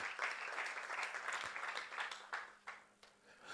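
Audience applause for a female contestant at a Bible-knowledge quiz event: steady, dense clapping from a crowd lasting several seconds, fairly distant, thinning slightly toward the end.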